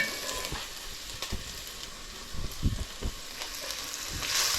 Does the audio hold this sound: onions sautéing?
yes